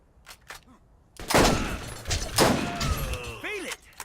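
Rapid gunfire from a high fire-rate gun in Borderlands, loud bursts of shots over about two and a half seconds after a few quieter pops, with faint voice sounds alongside.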